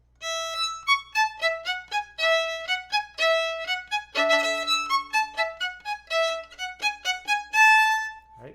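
A quick violin passage of short, crisp detached notes at a lively tempo, played solo with bright articulation.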